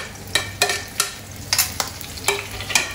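Capsicum, onion and carrot stir-frying in a pan, a steady sizzle broken by about nine sharp scraping clacks of a spatula against the pan at an uneven rhythm.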